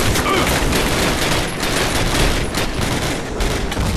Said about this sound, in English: Get suppressing fire on those 42s!